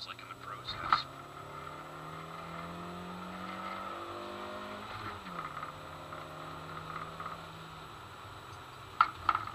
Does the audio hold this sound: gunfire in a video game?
no